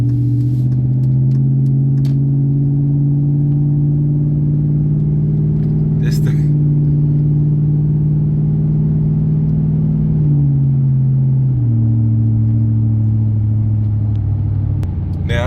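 A 2004 Dodge Ram 2500 with a 5.7 Hemi V8, muffler deleted and fitted with dual exhaust, idles with a loud, steady, deep rumble, the pitch dropping slightly partway through as the engine settles, while someone talks over it.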